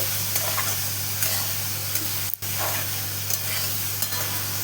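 A fish head sizzles steadily in a pan with turmeric, cumin and coriander powder while being stirred, a loud continuous hiss with occasional scraping clicks and one brief dropout midway.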